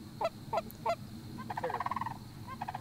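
Geese honk repeatedly as they come in to land at a Michigan goose hunt: three sharp calls up front, then a faster, overlapping run of honks, clear against a steady outdoor hum.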